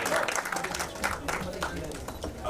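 Audience applause at a song launch event, steady dense clapping filling the whole moment at moderate level, with a voice talking over it.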